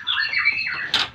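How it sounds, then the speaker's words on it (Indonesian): Caged ciblek kapas kristal prinias give quick, high, thin chirps and twittering calls in a rapid run, ending in a brighter, sharper note, close and clear with no speech. "Ini ciblek kapas kristal."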